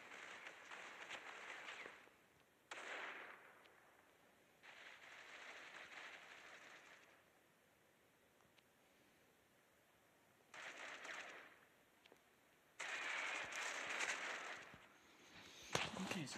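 Bursts of shotgun gunfire in the mobile shooter game Critical Ops, several loud blasts in separate clusters with quieter gaps between, the last burst ending in a sharp crack.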